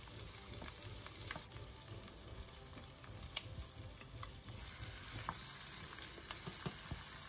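Pork sizzles and fries in a pan with ginger, peppercorns and onions, a constant dense crackle of oil with scattered sharper pops, heard up close and quite faint overall.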